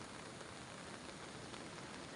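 Heavy rain pours steadily during a coastal storm, a dense continuous roar of drops on surfaces that stays loud and unbroken throughout, with no voices.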